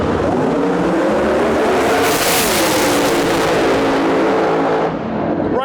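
Drag racing cars, a Buick Grand National with a big screw blower and a Camaro, launching down the track with a loud, roaring engine wail that sweeps and climbs, close and overwhelming throughout.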